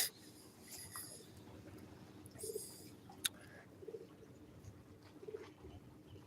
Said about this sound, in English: I hear those pigeons under here again.